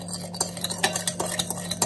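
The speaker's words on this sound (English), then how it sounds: "give it a really good stir to make sure all the strawberries are covered" Strawberries being stirred with a spoon in a bowl with balsamic vinegar and sugar, giving repeated soft clinks and scrapes in a steady rhythm, close and moderately loud with no talking.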